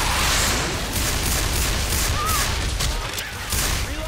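Loud, chaotic gunfire in a Left 4 Dead 2 firefight, including pistol shots, overlaps in a dense wash of rapid cracks and booms with no pause.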